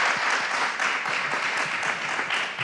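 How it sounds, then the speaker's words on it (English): Members in the Seattle City Council chamber clap after a resolution is adopted, a short, dense burst of applause that fills the room with no voices over it. "let's clap on that."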